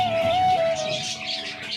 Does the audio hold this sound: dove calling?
yes